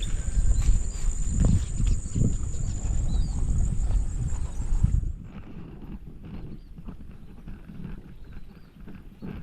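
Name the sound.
horse walking, hooves clip-clopping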